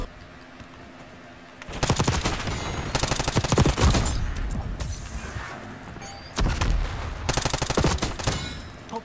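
Rapid automatic gunfire in Call of Duty Black Ops 6, loud close bursts of rattling shots in two main stretches separated by a brief lull, over game background noise.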